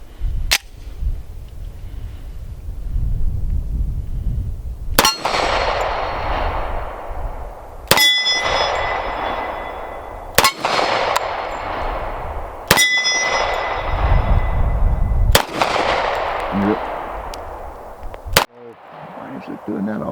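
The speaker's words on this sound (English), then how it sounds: "This is probably the softest shooting .45 auto I have ever shot." A Kimber Rampart .45 ACP 1911 pistol fires six loud, sharp shots a few seconds apart, each followed by a ringing metallic clang from a steel target, with outdoor rumble and low background noise between rounds.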